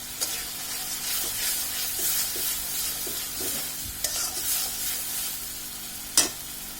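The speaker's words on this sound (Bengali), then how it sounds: "আমার মশলাটা কষানো হয়ে গিয়েছে" Spice masala for kima potol, minced meat with pointed gourd, fries steadily in a pan. A continuous sizzle is broken by the clicks and scrapes of a spatula stirring it up close.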